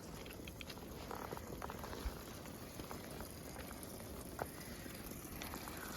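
A mountain water source at Trey Mountain Gap on the Appalachian Trail flows steadily, a soft continuous trickle and patter with small splashes, close by and without talk.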